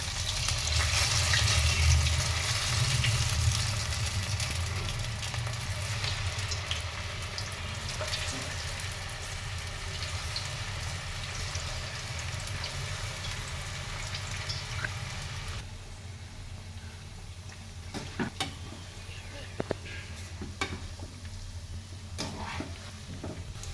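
Cabbage gobi manchurian balls deep-frying in hot oil give a steady, loud bubbling sizzle that runs throughout, easing slightly partway, with a few sharp clinks of a utensil near the end.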